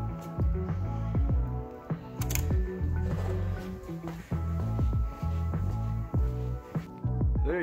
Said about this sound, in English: I'm just gonna grab a wrench, snug it up